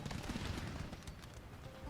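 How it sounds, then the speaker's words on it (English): Cannon fire in an Empire: Total War siege battle at Philadelphia, a dense continuous rumble of overlapping booms and crackling volleys, steady and fairly loud throughout, with no clear gaps between shots. "Cannons are firing. They're firing in this direction."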